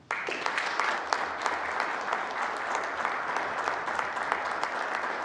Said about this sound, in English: I ask all members to give a final hearty applause